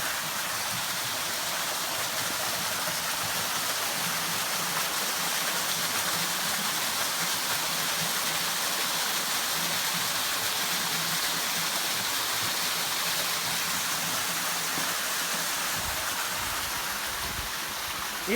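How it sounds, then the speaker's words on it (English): A large waterfall in the Ozark woods of Douglas County, Missouri, roars as a steady, broad rush of falling water, loud and unbroken throughout, with no voices over it. "We followed the sound of the water, and we found what appears to be an enormous waterfall."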